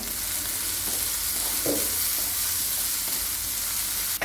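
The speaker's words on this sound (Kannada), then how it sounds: "ಉಳ್ಳಾಗಡ್ಡಿ ಜಲ್ದಿ ಕರಿತೈತಿ" Chopped onions sizzle and crackle in hot oil in a pan for an Indian tadka, a continuous close frying hiss with a brief stir midway.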